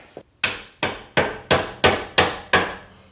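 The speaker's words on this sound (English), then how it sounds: "you're gonna whack the back side of it so it pops out the half shaft" Hammer strikes against the back of an Acura TSX CV axle half shaft, eight sharp metallic whacks after a faint tap, evenly spaced and close, with no talking.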